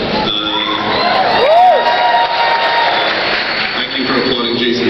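A comedy convention audience at Comic Con, with two comedians on stage, claps and cheers loudly and steadily, with whoops and shouts mixed in and voices rising over the dense crowd noise throughout.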